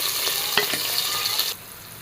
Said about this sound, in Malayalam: സവാളേനെ നന്നായിട്ട് വഴറ്റിയെടുക്കണം